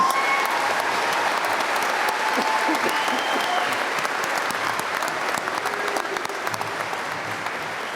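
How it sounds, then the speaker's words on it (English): A commencement crowd applauds new master's graduates of 2022 in a long, steady wash of dense clapping that holds at an even level throughout, fading slightly toward the end. "Let's have some final applause for our new master's graduates of 2022."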